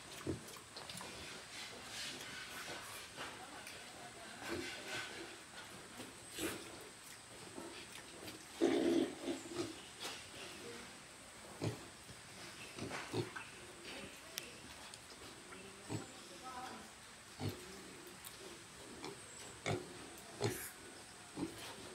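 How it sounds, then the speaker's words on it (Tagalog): Pigs eating plain rice, heard as quiet grunts, snuffles and scattered knocks and clatter of feeding, with one louder grunt midway against a low outdoor background. "Ito na yung mga baboy ni Kuni."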